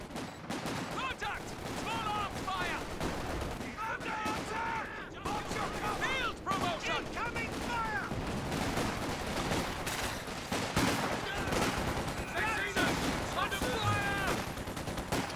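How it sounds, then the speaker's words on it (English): Squads trade fire in the World War II strategy game Company of Heroes 2, a continuous, moderately loud clatter of rifle and machine-gun bursts layered with other battle noise. "Shooting at some retreating squads."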